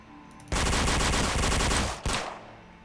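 Rapid automatic gunfire in the Roblox game Zombie Killing Simulator, a loud sustained burst of about one and a half seconds, then a brief gap and a short final volley.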